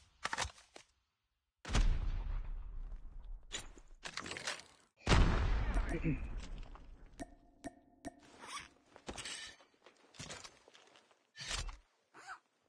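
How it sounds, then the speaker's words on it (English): Sharp bursts of grenade explosions and gunfire from a squad-based shooter video game sound in separate loud blasts, several clustered hits with quiet gaps between them and no talking. "I'm throwing grenades right now"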